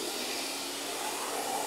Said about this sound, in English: I think we're going to have to vacuum this thing again.